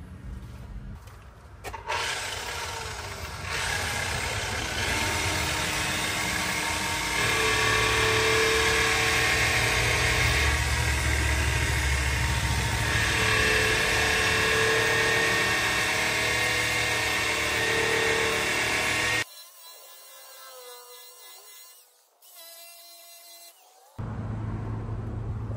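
Power sander working over a truck part, a loud steady whirring grind that holds for about twenty seconds, then cuts out briefly before restarting.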